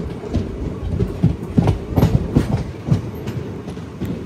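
An express train from Cherlapally to Chennai Central runs on rails through the Guntur division, a loud steady rumble with rhythmic clickety-clack beats of the wheels, close by and without talk.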